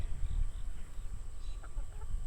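Chickens cluck faintly, young hens mingling with adult birds in a backyard flock, soft and intermittent over low rumbling background noise.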